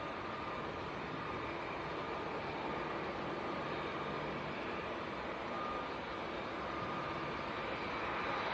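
A Saudi Boeing 787-9 departing Manchester Airport for Jeddah from full runway length, giving a steady, broad jet roar held at a constant level and heard from a distance.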